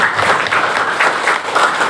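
Steady applause from a fifth-grade elementary school class, dense clapping that holds at an even level throughout.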